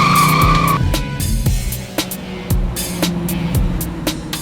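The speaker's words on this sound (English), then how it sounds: "let's take our Camaro for a ride" A 1967 Camaro fitted with a Tremec TKO-600 manual transmission drives along with a steady, loud engine roar, while tire squeal and skidding rise and fall across the run, with brief sharper bursts breaking through.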